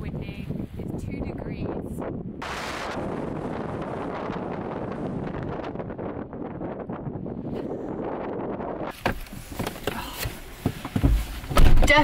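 Strong, cold winter wind on the coast at Bodrum, Turkey buffets the microphone with a continuous roaring rumble, then gusts fade into rustling and handling noises near the end.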